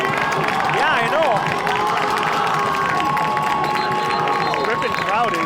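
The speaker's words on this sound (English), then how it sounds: "Ripon crowd is really getting into it. They are super loud." A college football crowd at a Ripon College game against Augustana College roars and cheers loudly and continuously, with shouting voices rising through the dense, sustained noise.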